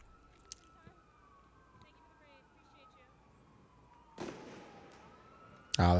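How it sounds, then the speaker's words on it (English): Fireworks bang during street unrest between protesters and the National Guard in Los Angeles: a sharp crackling burst, then a second, louder blast a moment later, against a quiet outdoor background. "Ah, the fireworks."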